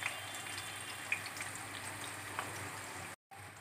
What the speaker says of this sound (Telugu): మీడియం సైజ్ ఉల్లిపాయ ఒకటి, 5 పచ్చిమిర్చి గాట్లు పెట్టుకుని బ్రౌన్ కలర్ వచ్చే వరకు ఫ్రై చేసుకోవాలి.